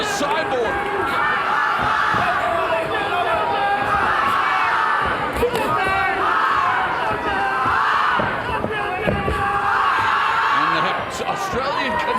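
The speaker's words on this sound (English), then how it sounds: "Australian contingent with chants of oi, oi, oi in the crowd" A packed arena crowd at an MMA championship fight in Hawaii, with an Australian contingent chanting "oi, oi, oi", roars steadily and loudly throughout, dense cheering and shouting layered with a commentator's voice.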